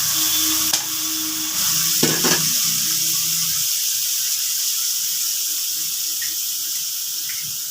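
Water poured into a hot pan of frying oil and spices for a fish curry, Bengali shankor maach jhal, a sharp sizzling hiss with splashy pours at the start, then settling into a steady quieter sizzle.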